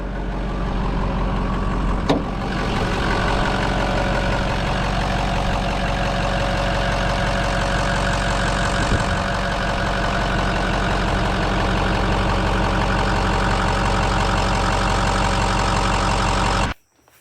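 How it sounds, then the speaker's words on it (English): A 2006 Ford F350 6.0 Powerstroke diesel dually idles loudly and steadily nearby with the hood open, a deep rumbling drone with rhythmic knock, cutting off abruptly at the end. "I think they're the best sounding diesel truck engine ever built."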